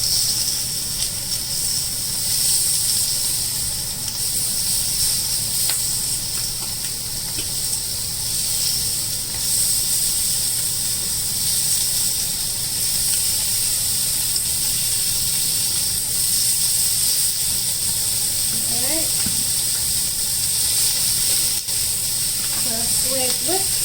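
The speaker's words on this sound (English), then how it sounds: "let it sizzle on there, one by one." Carne asada pieces sizzle in a hot pan with a steady, continuous hiss throughout, close and fairly loud, with faint clinks of tongs near the end.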